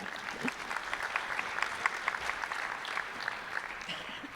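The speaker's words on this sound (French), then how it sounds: "Oui, on peut applaudir, Thierry, si vous voulez." Moderate, continuous applause from attendees at a regional nonprofit association conference in Brittany, a soft, even patter of many hands clapping at some distance, lasting the whole stretch.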